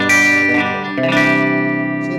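A 1980 Guild CE-100 electric guitar with HB-1 pickups in the middle position rings out a chord with a thin, hollow, out-of-phase tone, struck twice and left to sustain with a touch of effects.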